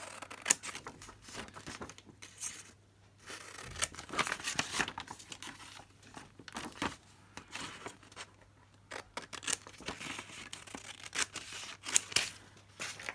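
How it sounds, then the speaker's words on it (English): Scissors cutting a rectangle out of paper, giving a steady run of crisp snips and rustling paper handling, close and fairly quiet, with no talking. "I'm just going to cut out the rectangle"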